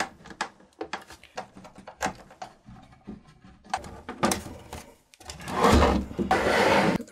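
A UPS case having its back panel fitted: a run of quiet clicks, taps and scrapes of plastic being handled, ending with a louder sustained rubbing and sliding as the panel goes on, with no talk.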